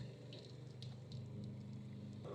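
Floodwater drains out of a car door after flooding in Atlanta, a quiet, steady trickle and splash of running water with a low gurgling undertone, faint and close, with no talking.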